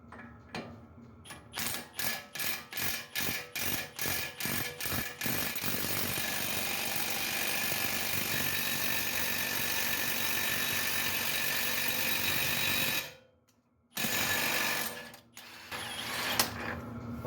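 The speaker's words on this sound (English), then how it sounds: "let's go ahead and press this in, and I'm going to switch back over to the small gun" An impact gun presses a wheel bearing into a Hyundai Tucson, starting with rapid rhythmic hammering bursts that merge into a long continuous loud drone, then a brief silence before another short run, close by with no voices.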